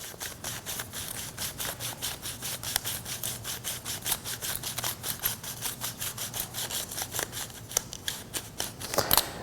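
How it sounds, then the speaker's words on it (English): Black-and-white film being wound by hand onto a developing reel, a quick, regular series of soft ratcheting clicks and scrapes, close and fairly quiet, with no talk. "Just keep winding, and the whole roll of film will wind all the way down into the reel."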